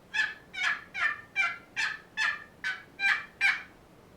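A steady series of nine raspy turkey yelps from a box call, evenly spaced and fairly loud, imitating a hen turkey calling, with no talk.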